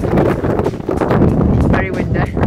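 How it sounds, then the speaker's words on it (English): Strong wind on an outdoor walk buffets the microphone in loud, gusting rumbles throughout, close and overpowering. "Very windy."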